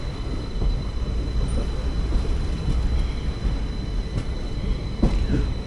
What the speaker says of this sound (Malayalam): നമ്മളങ്ങനെ തിരുവനന്തപുരം സെൻട്രൽ സ്റ്റേഷനിലോട്ട് കയറുകയാണ്.